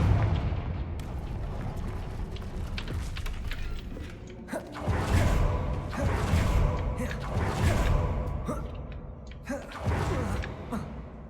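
A Confringo fire-blast spell in a Harry Potter-style video game hits in loud bursts and crackling booms, with several sharp impacts over roughly eleven seconds among mechanical creaks and rumbling debris.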